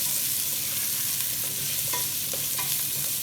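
A spoon stirs carrots and green beans in a pot of sizzling beef stew base, giving a continuous close frying hiss with soft scraping and a few light clinks against the pot, and no talking.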